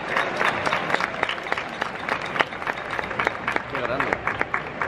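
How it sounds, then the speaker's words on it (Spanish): An audience at a Comic-Con panel in Madrid claps in a steady, moderate burst of applause from a crowd, with an announcer's voice carrying over it. "Kiko Rovira Veleta, un fuerte aplauso"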